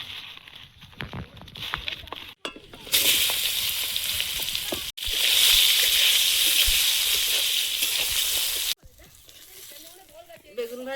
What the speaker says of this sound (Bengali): বেগুনগুলো শুকনো হয়ে যাচ্ছিল তো ভেজে নেব।